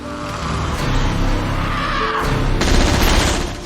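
Gunfire rings out in a zombie film: a rapid burst of shots follows a swell of noise and is mixed with other dramatic soundtrack sounds.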